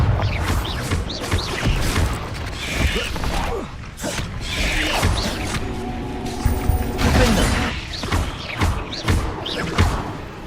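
Spell combat in Hogwarts Legacy, with repeated blasting impacts, thuds and creaking, rattling debris in irregular bursts over about ten seconds, loud and close with no talk.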